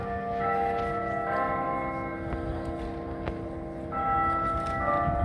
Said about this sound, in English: So we've got the town hall chiming.